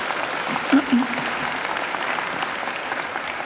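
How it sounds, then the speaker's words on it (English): An audience in a graduation ceremony hall applauds the organist and trumpeter with a steady wash of clapping, and a brief voice cuts through early on. "deserve a great round of applause"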